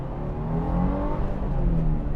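A 2022 Subaru WRX engine pulls under acceleration, a steady low growl that rises slightly in pitch over a couple of seconds, close and fairly loud with no talking.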